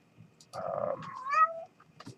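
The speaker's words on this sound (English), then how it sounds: "So my cat here is wanting to say hi to everybody" Pet cat meowing near the microphone, one long drawn-out meow with a rising, wavering second part, loud and clear in a quiet room, followed by faint rustling.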